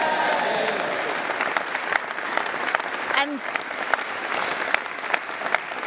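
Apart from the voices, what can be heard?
audience applause and cheering at a political speech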